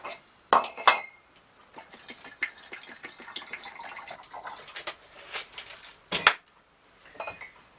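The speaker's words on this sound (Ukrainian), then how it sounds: "Гарно її сполоскуємо. Переливаємо розчин в наступну." A glass wine bottle rinsed with potassium metabisulfite solution, heard as clinks of glass, sloshing liquid and splashes in irregular bursts, close and moderately loud.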